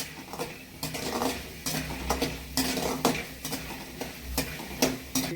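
Ingredients for tamarind rice fry in a pan over a low flame, a soft sizzle under repeated metal spoon scrapes and clinks against the pan in an uneven rhythm.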